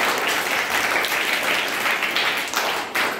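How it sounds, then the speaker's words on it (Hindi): Children in a classroom clap steadily for a classmate who won an antonym game, with dense, continuous applause that stays loud throughout and swells slightly near the end. "गगन के लिए ताली।"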